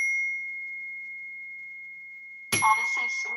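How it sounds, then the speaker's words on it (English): A struck zen bell rings out in a single sustained, pure tone that slowly fades, then a second strike lands with a brighter, clanging onset. "I bought a new Zen bell, and it's not really zenning."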